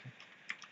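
Two or three light, crisp clicks of a computer keyboard key, the colon key, pressed close by in a quiet room with no talk.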